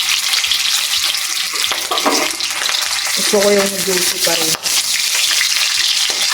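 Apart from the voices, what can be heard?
chicken frying in oil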